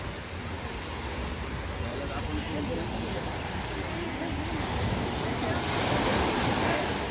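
Surf rolls in steadily at Baga beach in Goa at high tide, a broad continuous wash of waves with some wind on the microphone, swelling a little louder toward the end.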